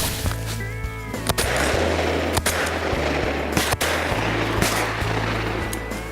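Several loud, sharp shotgun blasts crack out at irregular intervals over a steady, noisy outdoor background.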